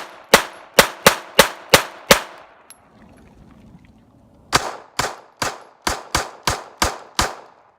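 A Hi-Point 380 ACP pistol firing 95 grain full metal jacket rounds: six sharp, loud shots in quick succession, a pause of about two seconds, then another run of about eight evenly spaced reports.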